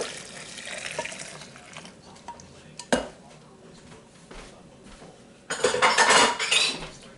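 A low-calorie protein pie mixture is tipped into a blender container in a kitchen, making a wet pour with clinks of utensils and dishes, short clatters, and a louder splashing burst toward the end.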